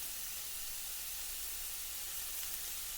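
Rice noodles stir-fry in a wok with lard and pork belly, giving a steady, even sizzling hiss with no breaks.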